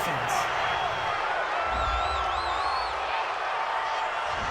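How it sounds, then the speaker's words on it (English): A football stadium crowd reacts to a penalty call during an Arizona Cardinals vs. Atlanta Falcons game, a sustained loud roar with scattered whoops and a whistle, steady throughout. "this crowd does not like that call"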